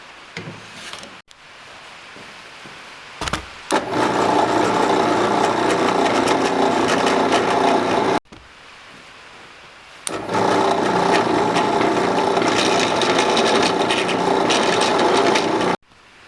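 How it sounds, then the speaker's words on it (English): A hand plane shaving a wooden toy fishing pole in a workshop, with long steady rasping strokes broken by brief pauses, close and fairly loud with no talk. "let's put a little flat on here with my hand plane"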